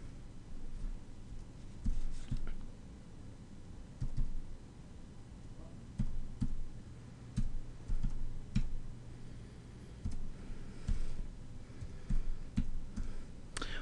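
Typing on a computer keyboard: quiet, irregular bursts of key clicks in short runs with brief pauses, close by and otherwise fairly still, with no one speaking.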